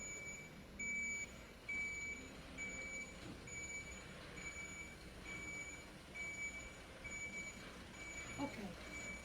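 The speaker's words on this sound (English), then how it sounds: "I can hear a truck coming" A truck idles and reverses somewhere outside, its backup alarm beeping in a steady repeating pattern over a low engine rumble, fairly distant and faint.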